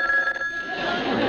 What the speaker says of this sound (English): Answer the phone, Tim